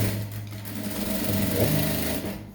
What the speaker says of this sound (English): Then from there, stitch all through.